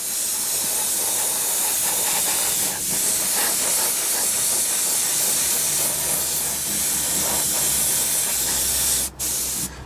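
Airbrush or spray can laying a primer coat onto a 1/48 Tamiya Supermarine Spitfire Mk.I model kit, a loud continuous close hiss of spray that holds steady, then cuts out briefly near the end.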